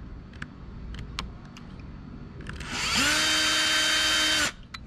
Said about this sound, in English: drill this.